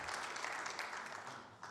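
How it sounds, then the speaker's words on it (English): Crowd applause for current and former veterans at a gathering honoring a WWII veteran of the 2nd Infantry Division, steady dense clapping throughout, fairly faint and distant. "give everybody a big round of applause for everybody who's current or former veterans."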